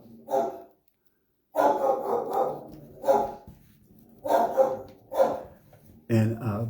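A house dog barking in repeated short bursts with pauses between, loud and close, as the mailman passes by outside.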